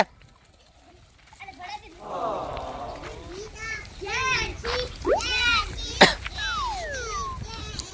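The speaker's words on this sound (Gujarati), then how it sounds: "ઝેન્સીબેન ધીમે ધીમે ધીમે ધીમે આ હા બોટલ ભરે છે" Young children play a game of scooping cupped handfuls of water into a bottle, with small splashes and trickles close by amid lively kids' chatter and an adult voice talking over them.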